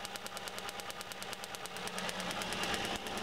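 Car engine running during an ignition coil test, a close, steady rapid ticking rhythm of firing pulses over a continuous mechanical hum that grows slightly louder toward the end.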